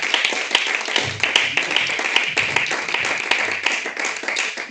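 A church congregation in Goussainville claps and applauds together, dense rhythmic hand claps filling the room with a steady, lively beat and faint voices underneath.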